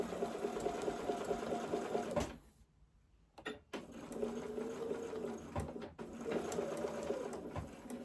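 Sewing machine straight-stitching a patch onto fabric runs in steady, loud whirring bursts, pausing briefly near the middle with a few clicks before resuming, with no talking.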